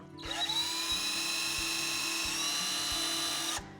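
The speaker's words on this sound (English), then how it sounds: "I'm just going to use a drill with a real small drill bit" A small power drill with a tiny bit whines at high speed while boring a pilot hole in a painted sign, a steady close-up buzz lasting a few seconds before stopping abruptly.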